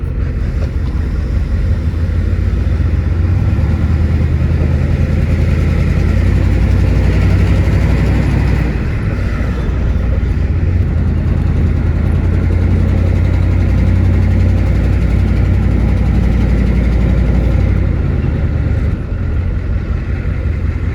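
A Ford F-250 diesel truck engine runs at high idle, a loud, constant low clatter and drone heard up close with some wind buffeting, no talk over it.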